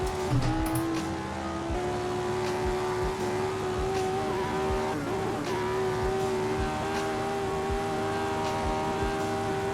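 A 1960s Formula 1 racing car engine drones loud and steady through a corner, its pitch stepping down through downshifts and easing as it settles before pulling again, close and continuous with no voices.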